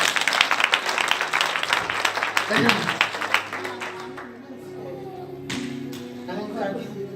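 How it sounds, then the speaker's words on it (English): Congregation clapping during an evening prophetic church service, a dense run of many hands that thins out midway, with a voice speaking over it toward the end. "Clap unto the Lord."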